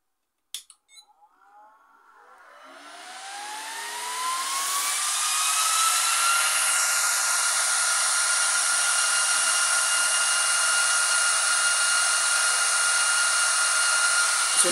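A PCS Electronics 300 W FM transmitter on a lab bench is switched on; after a few clicks its noise sweeps upward into a loud, steady, high-pitched whine like a fan or dryer that holds without a break.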